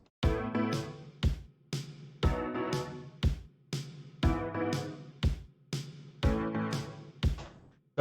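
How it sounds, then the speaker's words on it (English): A short synth pattern with punchy kick and snare drums in a steady repeating groove, loud and close, four bar-like phrases with gaps between hits. "So a nice little synth, and then we added a kick and a snare as well"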